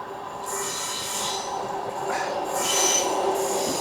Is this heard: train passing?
yes